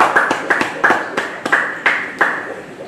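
A church congregation claps in a steady rhythm, with about ten sharp, evenly spaced hand claps in quick succession.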